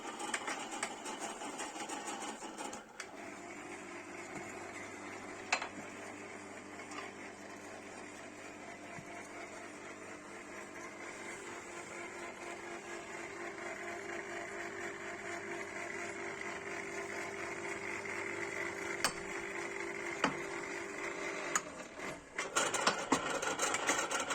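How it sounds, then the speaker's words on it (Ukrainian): Well-drilling rig motor spinning off threaded well pipe, a steady mechanical hum and grinding whir running for about twenty seconds, with scattered metallic knocks and clanks near the end and no speech. "Ключами зриваємо різьби і допомагаємо мотору відкручувати так швидше."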